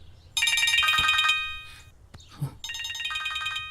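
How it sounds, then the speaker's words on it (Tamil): A phone rings with an incoming call. A bright electronic ringtone plays in two loud bursts, and a short gap between them holds a brief thump and a murmur. "இவன் எதுக்கு இப்ப ஃபோன் பண்றான்?"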